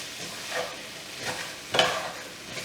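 Salt and pepper are stirred into a simmering vegan tofu curry, producing slow, soft scraping sweeps of a spoon against the pot over a light sizzle, three strokes in a row.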